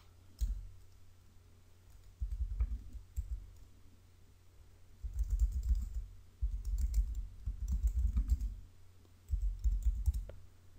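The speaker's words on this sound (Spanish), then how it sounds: "Voy a escribir algo más." Someone types on a computer keyboard in bursts of rapid, close clicking keystrokes separated by brief pauses, in an otherwise quiet room.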